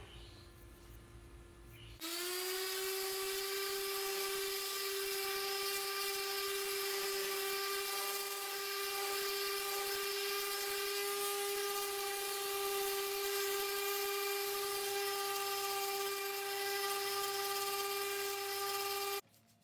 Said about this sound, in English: So this time I'm going to use my electric sander and give it a quick clean.